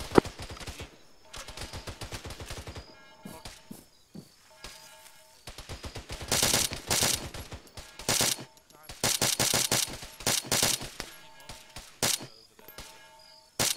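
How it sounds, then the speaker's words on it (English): Machine gun fire from a bunker in the video game Arma 3: rapid rattling bursts, some long and some clipped, repeating through the stretch with short pauses, fairly close and loud. "That bunker to the left has a machine gun in it."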